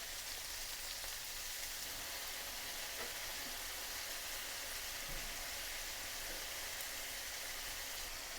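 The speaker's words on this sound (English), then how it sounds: "Now you can always cook ground beef in a skillet" Ground beef seasoned with salt, pepper and garlic sizzles steadily in a skillet, a soft continuous crackle with no one talking.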